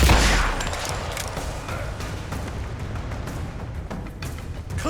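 Heavy gunfire in the video game Rise of the Tomb Raider: a dense, continuous barrage of loud shots and bursts starting with a booming hit and running throughout.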